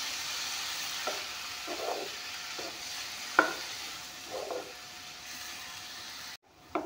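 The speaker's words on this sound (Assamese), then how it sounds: "শাকখিনি দি অলপমান ভাজি ল'ম।" Lai saak greens go into a hot pan with spice powder, bringing a steady sizzle with repeated bursts of stirring and scraping at a close, moderate level, before a brief abrupt cut near the end.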